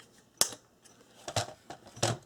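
Scissors snip through paper pieces cut down for a Simple Stories memory box: three crisp, close cuts with short quiet gaps between them.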